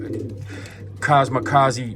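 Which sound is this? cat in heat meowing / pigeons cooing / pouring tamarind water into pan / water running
pigeons cooing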